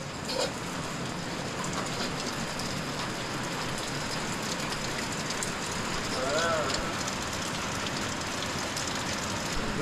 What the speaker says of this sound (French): Ça pleut un petit peu